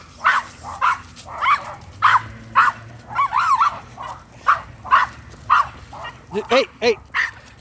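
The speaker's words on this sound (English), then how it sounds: "You're gonna see these dogs barking after a storm." Several pitbulls bark repeatedly in a steady series of sharp, loud barks after a storm, with a brief whimper-like yelp near the end and a person shouting a short command.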